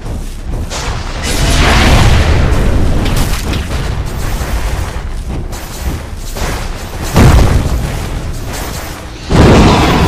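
A tower collapsing in Dota 2 gameplay: heavy booming crashes and rumbling debris, loud and dense, with fresh impacts striking in again near the end.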